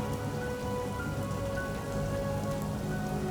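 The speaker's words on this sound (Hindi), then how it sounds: "बहुत तेज़ बारिश है यार" Heavy rain pours steadily onto surfaces on a rainy day in Islamabad, a dense, even hiss of drops that stays loud and unbroken, with no talking.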